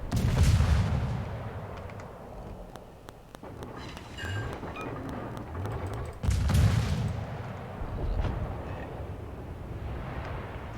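Warship guns fire high-explosive rounds in the naval combat game World of Warships, with loud booming salvos and scattered rumbling impacts rolling through a continuous battle din.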